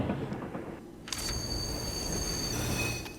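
A train in the game Little Witch in the Woods slows to a stop, heard as a faint rolling rumble with a thin, high metallic wheel squeal that rises and holds for a couple of seconds.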